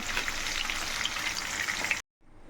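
Mango pieces frying in hot oil give off a steady, dense sizzle for about two seconds before cutting off abruptly.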